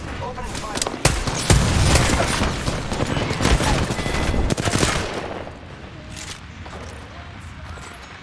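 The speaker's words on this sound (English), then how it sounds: "I'm taking fire, friends. Opening fire." Bursts of rapid gunfire from a firefight in the battle-royale shooter Apex Legends, loud and dense through the first five seconds, then thinning to scattered distant shots with a voice in the background.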